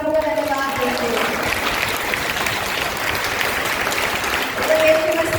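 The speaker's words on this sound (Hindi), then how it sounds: "जोर से ताली बजाकर हम प्रभु का धन्यवाद देते हैं" A church congregation at a satsang service claps loudly and steadily together in thanks, a dense, continuous wash of applause with faint tonal sounds and voices in the background.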